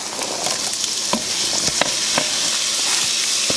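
Onions frying in achiote oil for a Puerto Rican pollo guisado, a loud continuous sizzle close by with scattered pops and crackles throughout.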